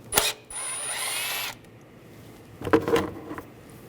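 A 10mm socket on a ratchet or power driver backs out a bolt beside the ignition coil of a 2013–2016 Dodge Dart: a short burst, then about a second of steady close whirring, followed later by a few scattered clicks and rattles.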